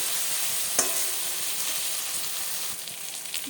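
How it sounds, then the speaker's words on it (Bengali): Chopped onions frying gently in white oil in a pan, giving a steady broadband sizzle with a brief louder stir or scrape near the start, no talking over it. "পেঁয়াজটাকে আমি বেশি ভাজবো না জাস্ট নরম হওয়ার মতন ভাজবো"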